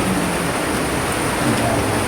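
Steady, dense roar of heavy rain with gusting wind, a constant broadband wash with no voices and no breaks.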